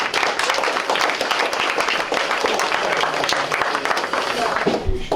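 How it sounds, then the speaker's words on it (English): Audience applauding at the close of a final concert, a dense, steady wash of clapping from a large crowd that holds at full strength for several seconds, then thins slightly near the end. "give them a round of applause"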